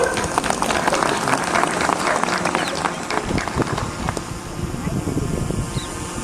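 A crowd claps at a school Republic Day program, sharp dense clapping close by, loud and continuous for about six seconds with a rough, breezy background texture.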